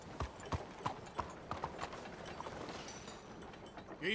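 Rhythmic clip-clop of hooves at a quick pace in Red Dead Redemption 2, a horse galloping fast with sharp regular hoofbeats close by.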